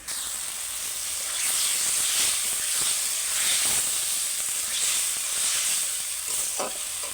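Potato and eggplant are stirred with spices in a hot pan for a curry, giving a continuous bright hiss and sizzle with soft stirring scrapes.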